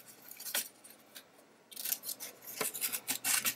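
Scissors snip through paper while a collage is cut out for an art journal page, giving quiet, close, irregular crisp cuts with short pauses between them.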